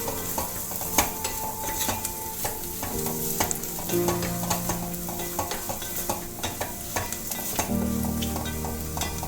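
Turmeric powder fries in a pan for Kerala jackfruit mappas with a continuous hissing sizzle, broken by frequent clinks and scrapes of a ladle stirring against the metal.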